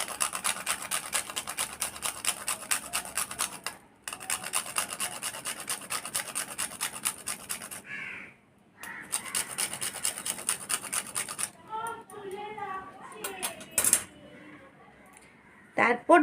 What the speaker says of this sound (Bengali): জায়ফলটা এর উপরে গ্রেট করে দেব।